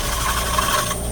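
A coring tool cuts into a large walnut blank spinning on a lathe, producing a steady, close rasping scrape with a whining tone that cuts off abruptly near the end.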